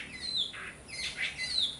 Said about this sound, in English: Big bird.